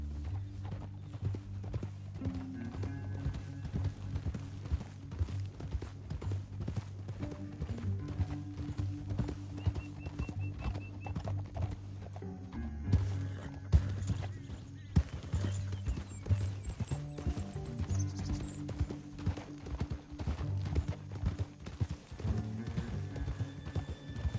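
Galloping horse hooves in Red Dead Redemption 2, a steady clip-clop rhythm running throughout over a low rumbling game score, with occasional whinnies and brief background sounds.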